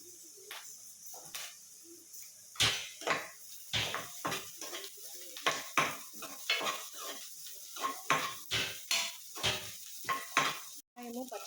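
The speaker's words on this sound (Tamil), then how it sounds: "மீடியம் ஃப்ளேமில் வச்சு வதக்கிட்டு இருக்கேன்" Onions and green chillies sautéed in a pan over a medium flame, a quick run of loud spatula scrapes and clanks against the pan over a faint sizzle, close up.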